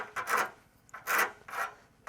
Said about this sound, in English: Trying to mark it with a pen